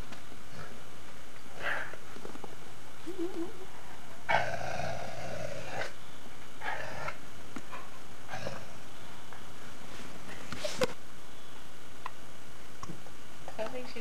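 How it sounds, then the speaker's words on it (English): A dog growling at its own reflection in a mirror, low rumbling growls in short bursts scattered through a quiet room, moderately close with faint background noise. "That was Chelsea growling at the dog in the mirror."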